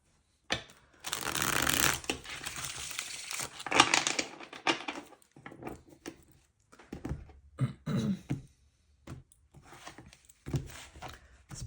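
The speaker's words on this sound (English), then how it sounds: "I'm just going to shuffle one more time." Tarot cards are shuffled by hand in a run of crisp riffling bursts, loud at first and then breaking into shorter, scattered flurries with brief pauses between them.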